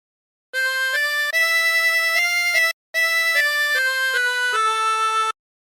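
A 16-hole tremolo harmonica plays a phrase of God Rest Ye Merry Gentlemen, with sustained reedy notes stepping between pitches, a brief pause midway, then a second run of held notes, close and clear with no talk.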